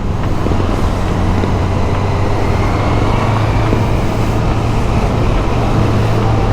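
A Honda CB650R motorcycle rides through traffic with a loud, constant engine drone, a low hum, and road and wind noise around it. No one speaks.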